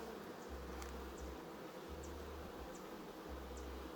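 Honey bees buzz steadily around old hive frames in a Cuban apiary, a faint, constant hum with intermittent low drones and small ticks, no talking.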